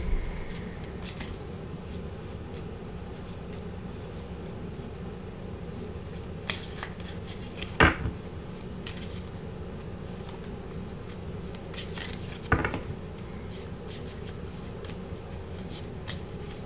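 Tarot cards being shuffled by hand, giving soft continuous rustling with a few sharper riffling snaps, faint and close.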